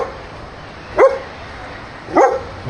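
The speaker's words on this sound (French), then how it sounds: "Oh, il y a un chien." A dog barks twice, loud and close, with about a second between the barks and no talking.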